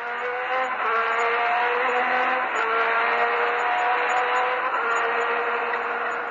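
A race car at a circuit accelerates hard out of a corner, its engine note rising loud and continuous through successive gear changes for several seconds, with no voices.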